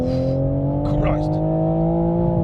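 A Toyota Supra GR Pro accelerating hard on a damp road, its engine a loud, steady, close-up drone that rises slightly in pitch throughout, with a brief higher whine partway through.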